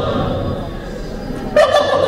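A mimicry artist imitates a turkey's gobble on stage at a district Keralotsavam competition, a short burst of rapid warbling gobbles rising near the end over a faint hum of the hall.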